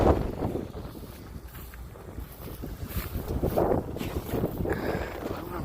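Wind gusts buffet the microphone outdoors while a Samurai tractor putts along in first gear, a steady broadband roar that swells and eases in waves over a low engine rumble.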